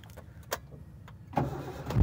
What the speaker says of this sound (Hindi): गाड़ी हमने स्टार्ट कर ली,